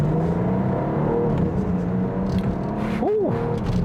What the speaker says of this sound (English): step on it, and you can just feel how this car drives.